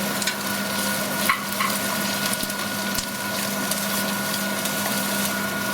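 Shallots and minced garlic sauté in a hot pan, a steady close sizzle with faint stirring scrapes and a low background hum, no voices.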